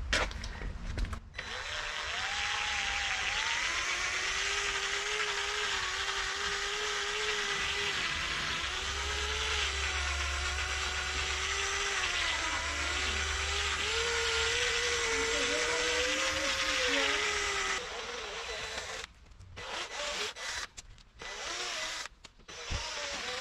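A rotary sanding disc polishes a car headlight with paper following an 800 grit, a steady whirring whine held for most of the stretch before cutting off, then brief scattered handling noise.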